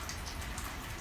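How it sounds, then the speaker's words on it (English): Steady rain falling, a dense even hiss of drops with no pauses, close and moderately loud, with no voices. "I'm gonna shut up so you can hear the sound of the rain."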